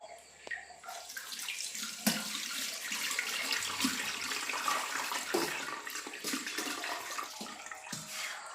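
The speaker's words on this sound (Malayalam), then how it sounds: "കുറച്ച് വെള്ളം കൂടെ ഒഴിച്ചു കൊടുക്കാം." Cold water is poured over cooked ada in a kitchen, a steady gushing splash that runs throughout at moderate loudness with a few small knocks and no talking.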